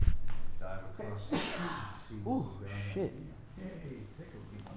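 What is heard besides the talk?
sneeze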